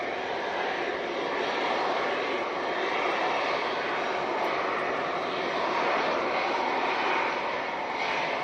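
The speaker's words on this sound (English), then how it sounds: "737 MAX 8 coming in from Dublin, so we'll go down for that now." A Ryanair Boeing 737 MAX 8 arriving from Dublin lands in gusty, blustery wind, its engines a loud, sustained roar that swells slightly and holds steady throughout, with no talk.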